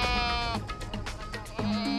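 An African farm goat injured in a hyena attack bleats loudly and close up, one long wavering cry, a short pause with rustling, then a second bleat starting.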